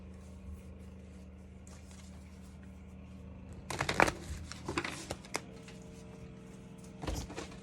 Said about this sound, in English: Oh, I just dropped my cards